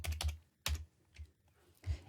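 A few keys pressed on a computer keyboard while naming a fabric part in pattern-making software, heard as scattered clicks in small bursts with pauses between them, close and fairly quiet.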